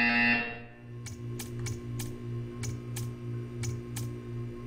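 A buzzer in the video game Portal 2 sounds as a string of short, sharp repeated pulses at irregular intervals over a steady low electronic hum, following a brief louder tone at the start.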